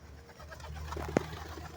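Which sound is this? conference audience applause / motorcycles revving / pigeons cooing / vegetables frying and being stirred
pigeons cooing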